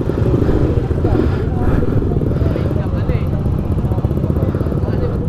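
Fecon Venture ADB 150 motorcycle engine running steadily up close with a dense, rough low drone, heard under a voice.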